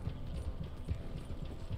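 Horse hooves clip-clop steadily in the Red Dead Online video game, a continuous close rhythmic trotting with no voices over it.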